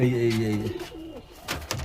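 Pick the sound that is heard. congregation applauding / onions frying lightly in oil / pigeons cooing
pigeons cooing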